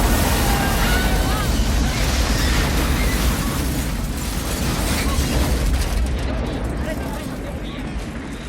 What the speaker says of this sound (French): Voyons d'abord comment Choi Ark filme une explosion dans Double Team.